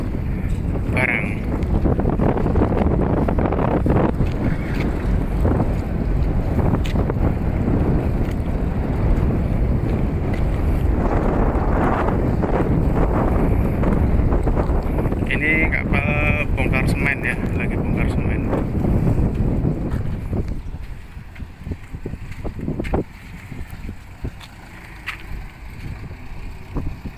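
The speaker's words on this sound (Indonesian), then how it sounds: "Jadi di sini melakukan aktivitas kapal-kapal" Cargo ships working at Reo seaport in Manggarai, with containers stacked nearby, under steady loud wind buffeting the microphone and a low rumble, with voices talking in the background; the noise drops away near the end.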